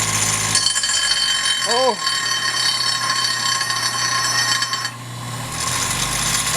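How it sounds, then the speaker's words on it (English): An angle grinder works steadily on a metal turbo fitting, a dense continuous whine filling the whole clip at close range, with a brief chirping squeal near two seconds and a short voiced exclamation over it. "So let's grind it down. See an angle grinder?"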